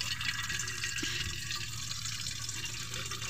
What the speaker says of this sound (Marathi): पाणी भरतो आणि त्याला फडकं लावतो टॉवेल